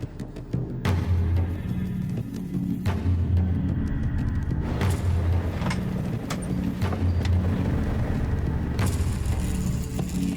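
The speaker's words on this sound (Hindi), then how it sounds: "गाड़ी ने यू टर्न मारा है।" A car driving along after making a U-turn, a steady engine and road rumble that stays close and continuous, with brief louder swells of passing noise and no talking.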